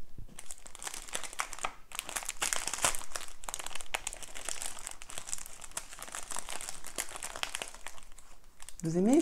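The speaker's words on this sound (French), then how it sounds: "Vous aimez ce bruit de papier, hein?" Wrapping paper crinkles and tears in repeated bursts as a Christmas gift is unwrapped, close up at a fairly quiet level, rustling almost continuously for about nine seconds with short pauses and a brief scrape at the end.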